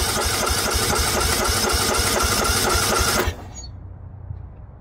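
The engine of an abandoned 2004 Murray 12.5 HP lawn tractor runs loud and close with a rough, rapid chugging. It cuts out abruptly after about three seconds, leaving faint background noise.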